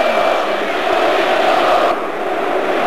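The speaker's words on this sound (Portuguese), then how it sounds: "Agora em coro grita timinho para a seleção da Argentina" Stadium crowd at a Brazil vs Argentina World Cup qualifier, a loud massed roar of many voices chanting together, steady and distant-sounding across the stands, dipping slightly near the end.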